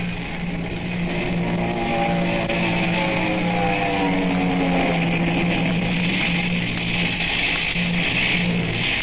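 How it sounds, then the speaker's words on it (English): Vintage car pulling away at speed, a continuous loud engine roar with rising whine as it accelerates, steady throughout with no voices. "Home, Jane, and don't spare the horsepower"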